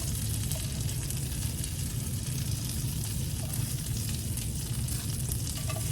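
Pork fillets fry in a pan with a steady, dense sizzle that stays loud and constant throughout, and faint crackles rise above it.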